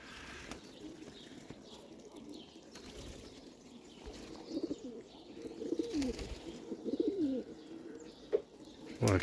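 Pigeons, including an old male, coo softly in bursts amid ambient outdoor noise in snow, with occasional wing flaps and a few sharper bird sounds toward the end.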